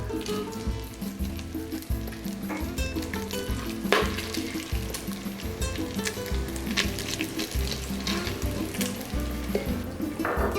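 Bacon frying in an Instant Pot pops and crackles steadily in its own grease, a close, busy sizzle with occasional spatters and the scrape of a utensil lifting strips out.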